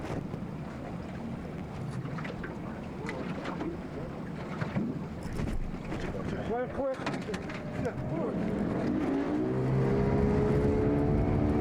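A small boat motor drones steadily on open Arctic water, rising louder and nearer toward the end with a low tonal hum, mixed with wind and splashing.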